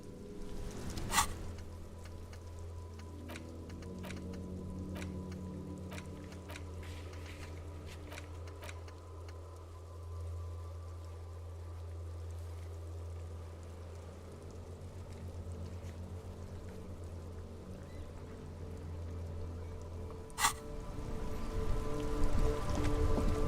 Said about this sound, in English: Stuck in the rain in a traffic jam, man.